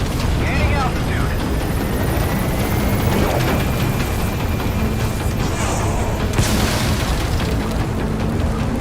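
Helicopter gaining altitude in the video game Metal Gear Solid V, a dense, loud rotor and engine roar that stays constant throughout with faint whooshes and a brief swell near the end.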